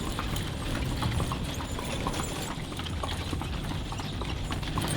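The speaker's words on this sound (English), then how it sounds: "Riding a Kalesa, the old form of transport." Hooves of a horse pulling a kalesa carriage clip-clop along a street in historic Vigan, Philippines, a steady close rhythm under constant rolling wheel and street noise.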